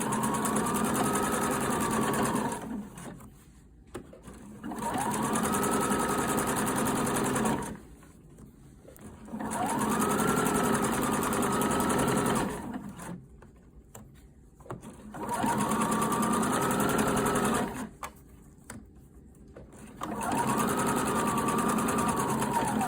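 Sewing machine stitching a separating zipper onto fabric, running in steady whirring bursts of a few seconds with short pauses between runs, close and fairly loud.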